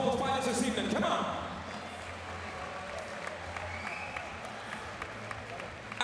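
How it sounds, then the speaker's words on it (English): An audience applauds the fighters at a Muay Thai event, a dense wash of clapping and crowd noise that peaks in the first second and then holds at a lower steady level. "give a huge round of applause for both fighters this evening"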